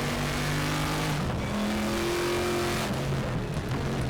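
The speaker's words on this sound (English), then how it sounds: "It's on the big open straightaways where it can really flex its V8 muscle." A Corvette Group 5 race car with a V8 engine accelerates in a Raceroom simulation at Macau, a loud, continuous engine roar rising through gears with shifts and rev changes, close and steady, no talking.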